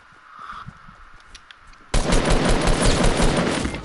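Sustained video-game gunfire erupts partway through a Duos match, a loud dense burst of rapid automatic shots that follows a quieter stretch of faint game ambience.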